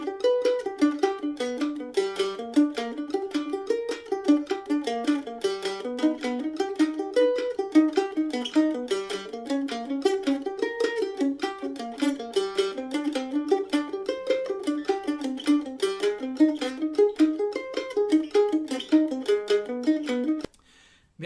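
A solo mandolin plays a fast, continuous arpeggio exercise moving through all keys and chord inversions up and down the whole fretboard, with steady, even picked notes and no talking.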